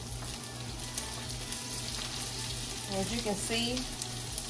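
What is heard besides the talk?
onions frying in a skillet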